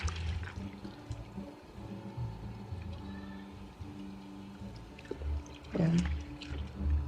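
Soybeans rubbed and washed by hand in a bowl of water to loosen their skins, giving continuous soft sloshing and squelching with a brief splashy burst near the end, close by and moderately loud.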